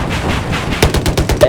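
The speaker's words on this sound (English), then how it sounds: "Who are they shooting at?" Rapid bursts of automatic gunfire from Battlefield 4 gameplay, a loud, close series of sharp shots in quick rhythm over a brief stretch.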